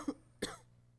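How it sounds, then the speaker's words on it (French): Two sharp, close coughs about a third of a second apart from an elderly woman who has been coughing for three weeks in humid southern China, followed by quiet. "Elle tousse depuis 3 semaines."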